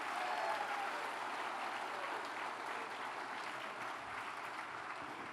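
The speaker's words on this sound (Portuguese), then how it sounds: "dá um grande aplauso a Jesus." Church congregation applauding during a sermon, a steady dense wash of clapping that carries on evenly throughout, heard from within the room with no talking over it.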